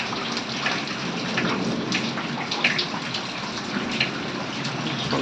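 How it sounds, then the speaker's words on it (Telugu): Rain falling steadily outdoors during home cooking, a dense continuous hiss and patter with occasional louder drips, close and even throughout with no talk. "అండి వర్షం పడుతుంది చూడండి."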